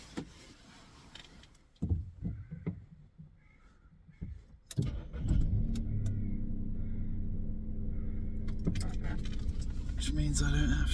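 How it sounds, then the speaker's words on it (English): Keys jangle at a small car parked in an English village during a camping trip, then the engine cranks and catches, settling into a steady, close idle rumble with a few clicks over it. "I do have a new technique for starting the car"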